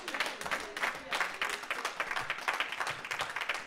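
A church congregation applauding during a service, rhythmic clapping from many hands at moderate distance, steady and fairly soft, with a few voices mixed in.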